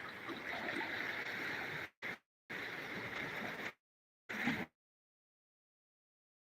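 Close-up sea waves washing over a beach at the tide line, a steady broadband wash of surf that cuts out abruptly several times, leaving silent gaps.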